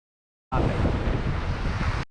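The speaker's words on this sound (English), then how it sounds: "the audio is a little less difficult to listen to because, again, of all the waves and the wind at the time" Wind and ocean waves on the shore at Beaver Island make a steady, dense roar that starts abruptly after a moment of silence and holds loud and unbroken.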